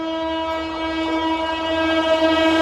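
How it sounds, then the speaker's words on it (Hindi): Shatabdi Express arriving at Shambhu station, a steady sustained horn tone over a low rumble of rolling wheels, growing slightly louder as it approaches. "लो जी, आ गई ट्रेन ओवरटेक मारने के लिए।"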